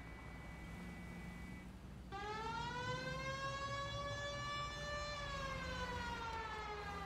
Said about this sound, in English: we should turn the siren on